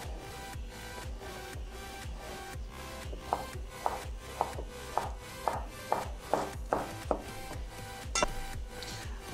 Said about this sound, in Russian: Теперь нарезаем также грушу.